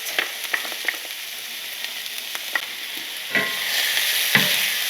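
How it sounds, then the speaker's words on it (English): Minced shallot and garlic frying in a pan, a soft continuous sizzle broken by light scraping stirs and a few sharper clicks, close and fairly quiet with no talking. "It's time to add our shallot, minced, and our garlic, minced."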